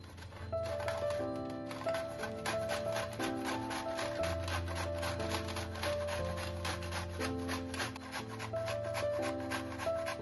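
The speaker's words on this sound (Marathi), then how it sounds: "आपण आता किसून घेऊया." Raw mango is rubbed against a grater in quick, rhythmic back-and-forth strokes, with steady music playing underneath.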